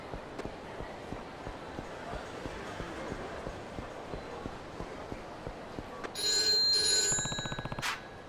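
A bright electronic payphone ring in the video game Yakuza 3 trills for about two seconds over a steady rhythmic thudding of footsteps, with talk in the background.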